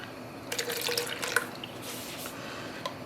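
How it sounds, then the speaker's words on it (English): Running water rinsing out a plastic dye container, with short bursts of splashing and dripping close by, then a quieter trickle. "That is so I can rinse out this container."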